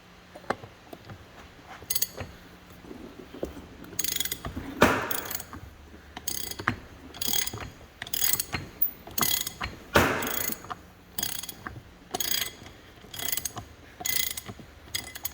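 A hand ratchet works a nut loose on a 1936 Caterpillar RD-4 pony motor, giving short runs of clicking with louder sharp ratchet bursts and metallic clanks between them, close and alone, with no talk.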